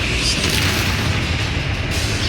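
A Confringo fire spell goes off in the Hogwarts Legacy wizard game, giving a dense, loud, continuous booming blast with rumbling low end and crackle that lasts the whole short moment, with no voices over it.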